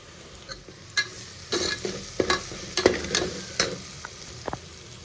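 Onions sizzle in hot oil in a pan with ginger garlic paste as the base for tomato rice, a soft steady frying hiss broken by sharp scraping stirs of a spoon against the pan.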